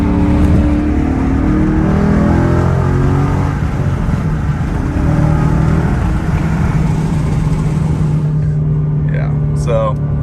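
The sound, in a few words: 2015 Mustang GT, Ford Performance sport exhaust, accelerating in 3rd gear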